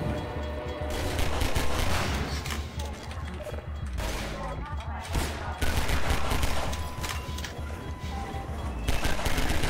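Half-Life 2 video game gunfire: rapid bursts of automatic shots and loud blasts with mechanical clanks, dense and forceful across the whole stretch, broken by brief lulls.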